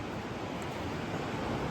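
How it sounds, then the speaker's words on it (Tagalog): Sea waves wash steadily onto a wide shore at low tide after heavy rain, a continuous broad surf roar with no clear breaks, fairly close and even in loudness. "So ang dagat po ngayon ay nasa low tide."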